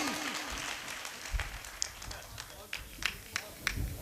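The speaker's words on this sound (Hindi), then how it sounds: "जोरदार ताली।" Scattered applause from the audience at a Hindi comedy poetry gathering, sharp claps bursting in irregular clusters over a noisy hall, with a voice talking through parts of it.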